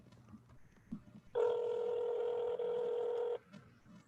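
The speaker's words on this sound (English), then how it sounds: "Okay. Phone is dialing." A telephone sounds a steady two-second electronic tone while a call is dialed, clean and close against a quiet background.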